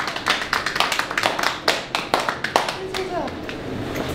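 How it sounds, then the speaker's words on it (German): Scattered clapping from a few people in a casual home setting, quick uneven claps close by for a few seconds, with voices talking over and around them. "Applaus für Kai Pflaume!"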